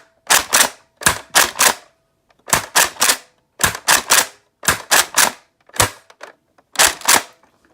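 A spring-upgraded Nerf RaptorStrike blaster fires foam darts in repeated bursts, each a sharp loud bang in quick clusters of two or three, separated by short silent gaps.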